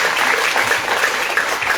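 Lively applause from a music programme audience, many hands clapping together in a brief, loud, continuous burst.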